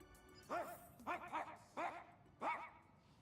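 Four quick, tonal barking bursts from a ghost dog in a video game, evenly spaced and moderately close, sounding voiced and somewhat human-like.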